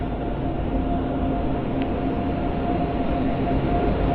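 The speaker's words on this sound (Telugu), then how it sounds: "ప్లాట్ఫామ్ నెంబర్ 7 మీద ఒక ట్రైన్ వస్తుంది" A train pulled by a WAG 9 electric locomotive, a Rayagada to Guntur service, rolls steadily alongside a railway platform, giving a continuous loud rumble and rattle of wagons with a faint whistle-like tone near the middle.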